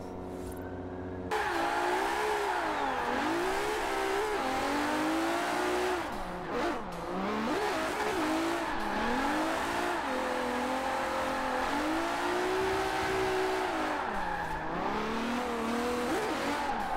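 A Nissan Skyline R31 GTR drift build in Forza Horizon 4 revs hard and continuously, its engine pitch rising and falling in repeated sweeps with hints of tire squeal. It is loud and sustained, with no talk.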